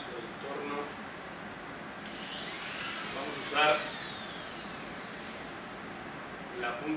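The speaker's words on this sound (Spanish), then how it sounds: "El torno que tiene que ser de lija" A high, whining rotary nail grinder with a sanding band runs steadily with rising and falling pitch, grinding briefly louder midway, with some faint talk in the background, at a dog grooming workshop.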